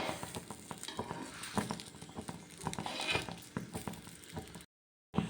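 Ottada, a Kerala rice snack, cooking in a pan as it is flipped: soft crackling sizzle with scattered light taps and scrapes, fairly quiet and close, cut off by a brief silence near the end.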